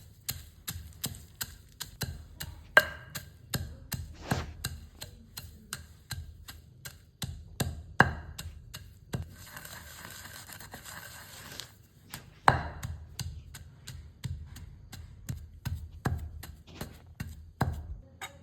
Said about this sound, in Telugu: రోటిలో మనం ముందుగా వేయించి పెట్టుకున్న పల్లీల్ని లైట్గా పొట్టు తీసి ఇందులో వేసుకొని మనం మెత్తగా నూరుకుందాం